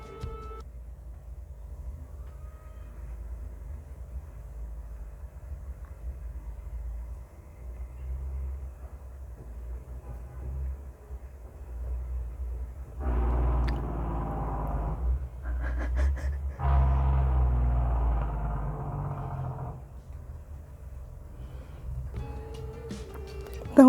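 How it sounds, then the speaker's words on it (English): A truck rumbles past outside, a faint low drone swelling into a louder, brighter passing roar midway and then fading back to quiet background. "for those who know, there's a truck coming"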